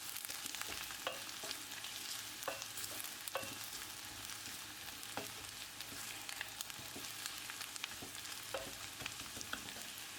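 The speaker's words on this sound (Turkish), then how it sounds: "Bir yemek kaşığı sıvı yağla birlikte öncelikle soğanımızı pembeleşinceye kadar kavuruyoruz." Oil sizzles and crackles steadily as onions sauté in a tablespoon of vegetable oil, with occasional sharp clicks from stirring in the pan and no voices.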